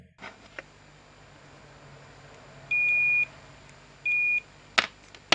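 Multimeter continuity tester beeping on a repaired, re-soldered alligator clip lead: two steady electronic tones, the first about half a second and the second shorter, close and clear over quiet room hiss, with faint clicks and taps of handling around them.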